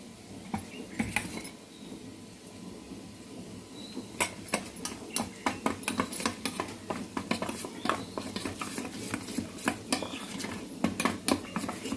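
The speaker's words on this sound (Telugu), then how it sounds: "బాగా మిక్స్ చేయాలి" A spoon scrapes and clinks against a metal pan or bowl while chili powder and spice mix are stirred for a paneer curry, with repeated close tapping strokes in a steady rhythm.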